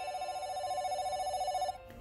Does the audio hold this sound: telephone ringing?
yes